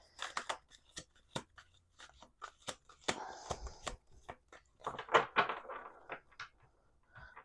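Playing cards are riffled and shuffled close up, producing a series of crisp snaps and flutters with short pauses between them.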